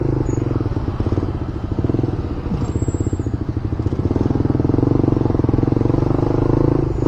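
A Suzuki GSX-S150 150cc motorcycle engine drones steadily while riding, a rhythmic throbbing rumble with rising revs and some wind noise, close and loud.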